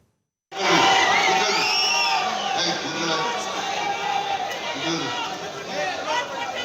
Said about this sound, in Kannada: ಹಂಗಿದ್ರೂ ಕೂಡ ಅಭಿಮಾನಿಗಳ ಕೂಗು ಜೈಕಾರ ಸ್ಟಾಪ್ ಆಗಲೇ ಇಲ್ಲ